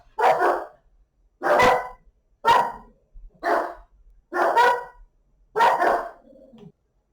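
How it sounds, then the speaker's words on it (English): Dogs bark in a close, loud series of six sharp barks spaced about a second apart, ending with a brief whimpering whine, with no talk over them. "my dogs are barking because there's a fire going on."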